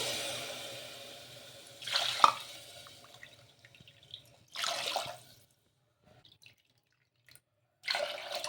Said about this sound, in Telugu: అదే కప్తో ఫోర్ కప్స్ నీళ్ళు అయితే వేసుకోండి